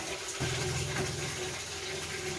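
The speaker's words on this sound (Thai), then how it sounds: "ล้างจาน" Dishes being washed under a running tap outdoors in a Thai village home, a steady stream of water splashing with faint clinks, close and continuous.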